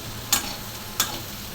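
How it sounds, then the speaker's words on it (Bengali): Large fish roe fries in a pan, a low, steady sizzle broken by two sharp clicks about a second apart. "বড় মাছের ডিম ভাজা হচ্ছে।"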